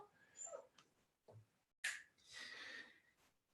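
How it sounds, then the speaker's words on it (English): A new puppy gives a few short, faint yelps and whimpers indoors, ending in one sharper, louder bark-like burst with breathy noise trailing after it. "that wasn't me barking. That was the new puppy."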